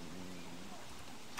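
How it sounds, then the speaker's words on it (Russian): Soft rain patters in the survival video game Don't Starve during autumn, a faint, even hiss of falling drops running steadily in the background. "Часто дождь идет, это осень."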